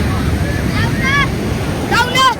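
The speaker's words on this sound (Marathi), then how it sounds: "केवढ्या लाटा बघा किती फास्ट" Sea waves break and rush at crowded Alibag beach, a steady loud surf roar with wind buffeting the microphone, while voices call out in bright bursts over the noise.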